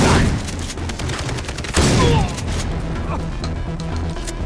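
Shotgun blasts in the Far Cry 3 video game, several loud booming shots amid a busy chaotic mix of gunfire and game effects, with a voice talking over the noise.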